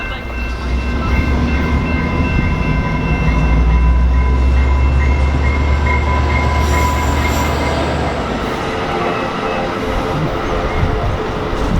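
An EMD F59PHI diesel passenger locomotive runs past loud and close with a deep engine rumble, rolling wheel noise and a high metallic wheel squeal.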